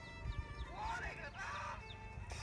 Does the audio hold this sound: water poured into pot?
no